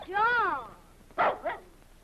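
A dog called Baby gives a high, yelping bark with a rising and falling pitch, followed by two short sharper yips, close and moderately loud with a faint background hum.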